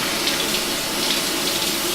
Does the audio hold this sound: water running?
yes